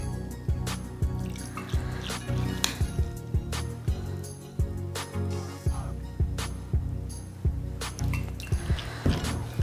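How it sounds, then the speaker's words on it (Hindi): Spoonfuls of water are poured over washed sabudana pearls in a bowl, with a series of close, bright clinks of a spoon against the dish and small splashes recurring at a regular pace. "इससे 2 चम्मच पानी डाल देते हैं"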